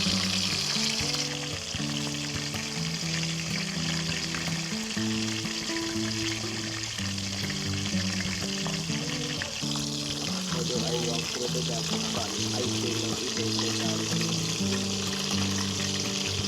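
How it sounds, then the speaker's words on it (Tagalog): Chicken pieces for buffalo wings fry in hot oil on a rooftop cooking setup, a loud continuous sizzle and crackle filling the whole stretch, with a steady musical or tonal background underneath. "Habang nagpiprito po tayo nitong manok"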